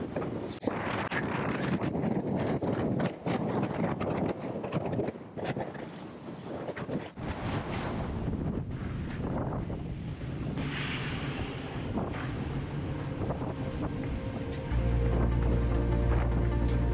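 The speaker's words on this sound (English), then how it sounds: "Looks like about 4 to 5 foot swells with 25 knots of wind." Strong 25-knot wind buffets a boat crossing Queen Charlotte Sound in four-to-five-foot swells, a loud continuous rush of wind noise over the water with a deeper rumble swelling near the end.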